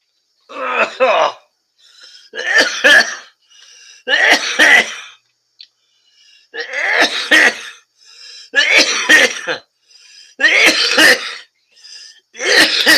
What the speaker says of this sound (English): As I cough in between each thing that I quit.